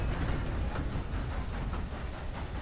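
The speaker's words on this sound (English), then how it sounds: "Is this train not stopping?" A train in Red Dead Online rolls along with a steady, loud rumble and a faint rhythmic clatter from the rails, continuous throughout with no voices.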